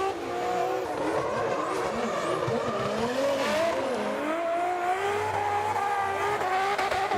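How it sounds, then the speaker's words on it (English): Drift car engine bouncing on the rev limiter at Suzuka Twin Circuit during a drifting competition, a loud continuous rasping wail with wavering pitch and squealing tires throughout. "Russell, I'm just here on the rev limiter the whole time. Just throwing smoke"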